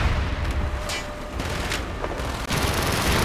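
Mortar and gunfire in a Call of Duty: Black Ops battle, with dense rumbling booms and rapid crackling shots overlapping in a continuous loud barrage, explosions punching through at intervals.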